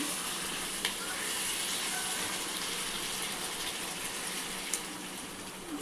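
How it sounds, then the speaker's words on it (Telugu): Water poured into a cooking pot of chicken and raw mango curry makes a steady, even gushing rush that lasts the whole stretch, with no voices. "ఒక్క నిమిషం వాటర్ పోస్తున్నానండి"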